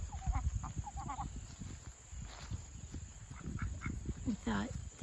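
Ducks on a small farm in Burnsville, West Virginia, quack in short repeated bursts, fairly close, over steady outdoor background noise with some low rustling.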